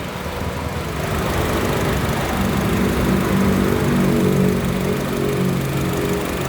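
A gray Honda City 1.5 i-VTEC, a top-trim sedan, idles with a steady low rumble and even hum, close by and alone throughout.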